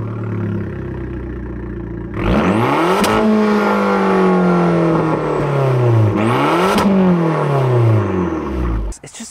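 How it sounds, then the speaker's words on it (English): A 2022 Abarth 595 Competizione with a quad exhaust idles, then is blipped hard twice, each rev rising sharply and falling back, loud and close with no talk. "You've got a pretty meaty bumper down there and quad exhaust, which sound absolutely amazing."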